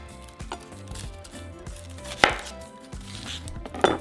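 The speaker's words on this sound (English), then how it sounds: "we're going to grab our white onion and we're going to cut about 1/4 of it" A knife cuts a white onion on a cutting board, with irregular close thumps and a couple of sharper, louder chops. A faint sizzle sits in the background, and no one speaks.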